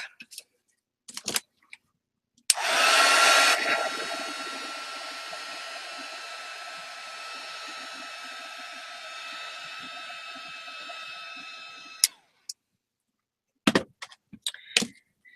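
A hair dryer blows over a freshly painted art journal page, a steady close whir that starts abruptly and runs for about ten seconds before cutting off, framed by a few brief clicks and handling sounds.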